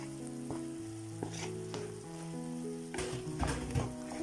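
Minced meat with chopped onion and Provençal herbs sizzles and fries in a pan, a steady close crackle with a few stirring clatters and scrapes.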